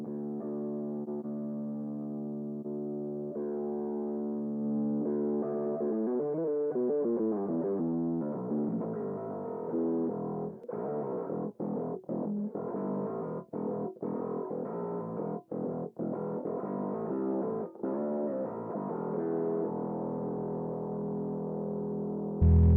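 A bass guitar through a Darkglass distortion pedal in VMT mode plays sustained notes and then choppy, rhythmic phrases through a gritty overdrive, thick and buzzy, with no voices.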